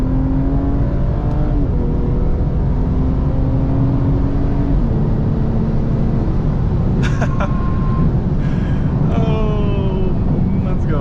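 Stage 2+ tuned BMW 340i F30 with a B58 engine pulling hard under acceleration from inside the car, a loud continuous drone climbing in pitch through a shift, with brief sharp pops and bursts over the steady roar.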